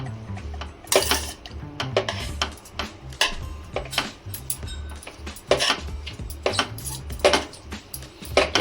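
Thai vegan salad being tossed in a bowl, with a rapid run of clinking utensil and dish clatter and soft wet rustling, close and steady with no talk.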